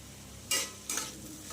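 Snake gourd is stirred together with fish roe that was fried with dry chilli powder, turmeric and salt: two distinct scraping strokes against the pan over a soft, steady sizzle, with no talking.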